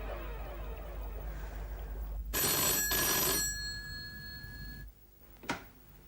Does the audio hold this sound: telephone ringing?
yes